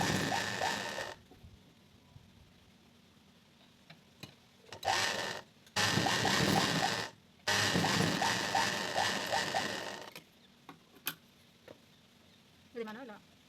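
A sewing machine stitches a blouse in several loud bursts of rapid mechanical running separated by pauses, with quieter talk between the runs.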